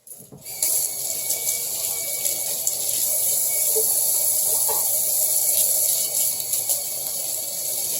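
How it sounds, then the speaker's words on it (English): Hands washed under a running kitchen tap: a steady, close rush of water that starts abruptly after a brief quiet moment and continues evenly alongside a low hum. "I'm going to wash my hands."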